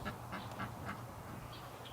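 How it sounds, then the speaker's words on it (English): Ducks gathered by a hedge give faint, scattered quacks over a steady low background hum, with a few soft calls spread across the moment. "Oh, I see a whole bunch of ducks."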